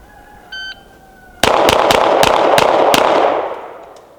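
Rapid string of six pistol shots from a CZ P-07 fired at a shooting range, sharp and loud close-up reports in quick succession with reverberant tails, preceded by a short electronic timer beep.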